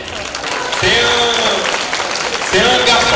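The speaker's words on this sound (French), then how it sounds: "J'aimerais que vous l'applaudissez." An audience at an oratory contest applauds a young speaker, with steady clapping throughout and a louder swell toward the end. A voice speaks over the applause.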